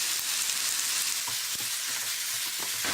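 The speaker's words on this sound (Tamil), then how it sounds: "வெங்காயம் நல்லா வதங்கிடுச்சு, தக்காளி போட்டுக்கலாம்" Onion and tomato fry with turmeric and salt in a pan, a steady close sizzle with a few soft stirring knocks, and no voices.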